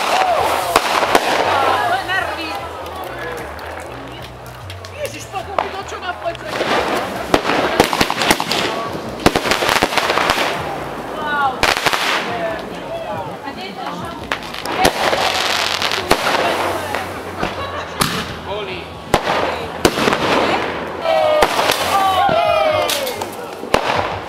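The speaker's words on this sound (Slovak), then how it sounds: "No tak strieľaj petardy." New Year's Eve fireworks and firecrackers burst constantly, with dense cracks, bangs and crackling from near and far, while people talk and shout underneath.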